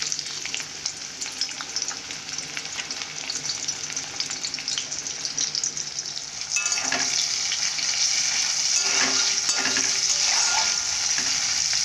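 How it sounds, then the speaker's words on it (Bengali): Onions frying in hot oil in a kadai, a continuous sizzle that jumps louder partway through as they are stirred, with faint clinks and no talk. "পেঁয়াজগুলো ভালো করে ভেজে নেব।"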